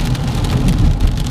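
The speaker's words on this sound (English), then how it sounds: "the rain today has been atrocious" Heavy rain pours down steadily on a match day at a football ground, a dense continuous hiss and patter with a low rumble underneath, loud and close.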